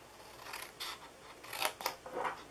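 Scissors snip through paper while shaping a simple Christmas gift bag, a handful of short, crisp cuts in quick succession, close and fairly quiet with no talking.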